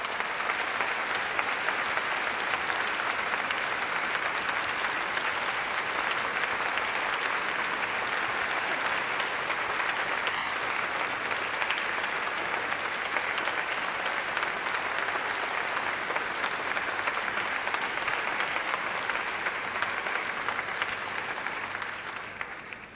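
Sustained applause from a large audience at the Labour Party conference after Rachel Reeves' speech, a dense, steady wash of clapping that holds at even strength throughout and trails off slightly at the very end.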